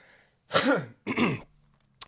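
Two harsh, close coughs in quick succession, each about half a second long, followed by a brief click.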